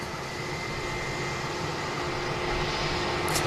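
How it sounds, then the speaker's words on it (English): A KLM airliner taxis out at Manchester Airport, a steady distant jet engine rumble and hiss holding at an even level throughout, with no voices. "We've got the Sky Team KLM on the taxi out as well over there"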